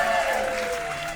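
A studio audience breaks into applause that starts loud and fades slightly over about a second, with a voice mixed into the clapping.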